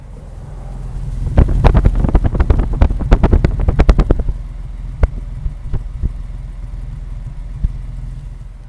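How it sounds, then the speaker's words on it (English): A restored 1952 Mercedes-Benz 300 Cabriolet D's single exhaust burbles up close, with a rapid flurry of sharp pops and revs before settling to a low idle with occasional single pops. "we'll get a listen to the single exhaust and its note"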